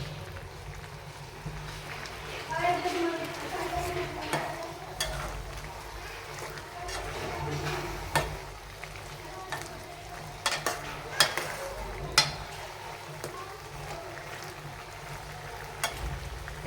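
Morabba with sugar, cinnamon and garam masala being stirred in a pot: a spoon scrapes and clinks against the metal in irregular taps over a low, steady background hum.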